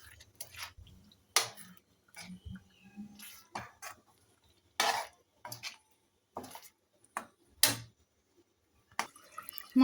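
A spoon stirring paneer peas masala in a pan, heard as irregular scraping and clinking strokes, some sharp and distinct and others softer, with pauses in between.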